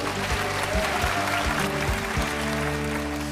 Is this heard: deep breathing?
no